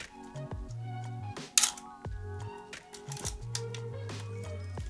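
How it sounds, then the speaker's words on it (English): An Olympus OM1 film camera's shutter fires several times at close range, giving sharp mechanical clicks at irregular intervals against a faint background hum. "We've got full working shutter."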